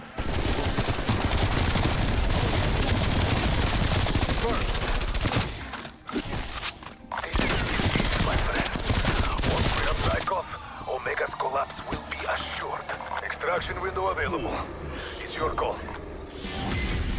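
Rapid bursts of assault rifle fire in Call of Duty: Black Ops Cold War, dense and loud at first, then sparser shots and clatter mixed with game sound effects and voices.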